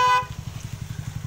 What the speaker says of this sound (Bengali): আরে বাপরে, গাড়ির হর্ন।